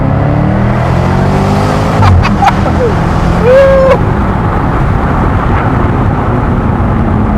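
Jaguar F-Type SVR convertible's V8 engine revving and accelerating hard, a loud, steady roar with rising and falling pitch throughout, with a few brief mechanical whines partway through.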